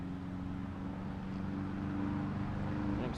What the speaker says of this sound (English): Especially when you got trucks going by that think they need to be all loud like this guy